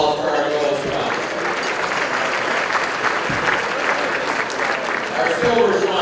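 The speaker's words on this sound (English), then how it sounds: "How about a round of applause for our gold sponsors?" An audience at a business luncheon applauds for gold sponsors with steady, dense clapping that lasts throughout, moderately loud and filling the room.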